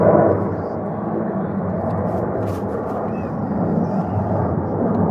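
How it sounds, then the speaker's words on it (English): A loud, steady broadband roar of a plane passing overhead fills the whole stretch, with no clear break or fade. "He's mad that the plane is so loud."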